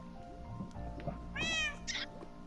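A cat meows twice, a clear close cry followed by a shorter one, over a low background hum.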